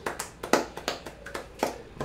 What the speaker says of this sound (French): Vous pouvez vous applaudir parce que c'est vous qui mettez l'ambiance